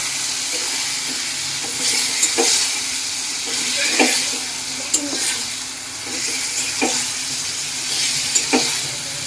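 Chicken sautéing in a pan, a loud continuous sizzle and hiss that swells and ebbs, punctuated by occasional sharp spatula scrapes and clicks, with no talking.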